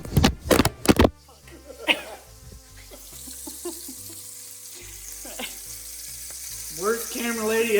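Meatballs frying in a pan give a steady, close sizzle and crackle, with a few sharp clatters at the start and someone talking over the frying.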